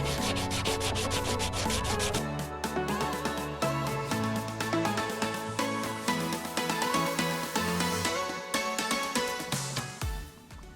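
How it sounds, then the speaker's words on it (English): Paint and barrier coat being sanded off a boat rudder in a dusty boatyard in Mexico, with a steady, loud, rhythmic rubbing and scraping that continues throughout and has no talk over it. "the rudder is fully sanded"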